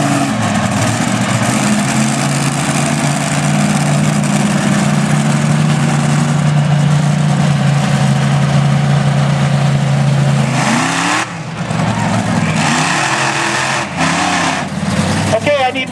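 Several buses idle together before a Crash-a-rama bus heat race at a 2009 monster truck event, a loud continuous engine drone with a steady low hum, some revving and a brief dip near the end, under a loudspeaker announcer's voice.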